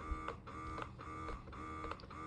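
A Youha wearable breast pump motor whirs steadily at raised suction, with a regular cyclic pulse about every half second, close and fairly quiet with no voices.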